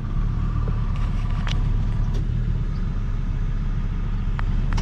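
A 1996 Volvo 850R drives along with a continuous low engine rumble and road roar heard from inside the car. A few faint clicks and rattles sit over the drone, with no talk.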